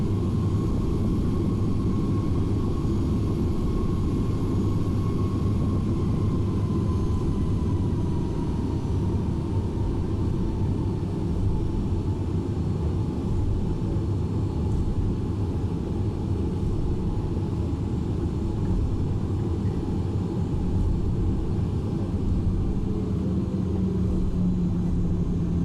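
Delta airliner jet engines taxiing at LAX in X-Plane, a steady loud rumbling drone with a faint whine, unbroken throughout.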